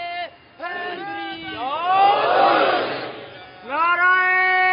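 A congregation at a Shia religious gathering answers a speaker with the shouted slogan Haidari, a swelling roar of many voices rising together and fading, set between the speaker's amplified, echoing calls.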